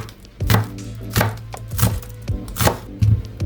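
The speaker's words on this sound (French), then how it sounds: "Je coupe le vert." A knife chops the green part of chives on a cutting board in a home kitchen, with six or seven crisp, close thuds in an uneven rhythm and quiet pauses between them. No talking.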